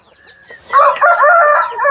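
A Kaki Dega rooster at a poultry farm in Machilipatnam crows once, loud and close, after a faint soft call, the drawn-out wavering crow filling most of the moment with no talk.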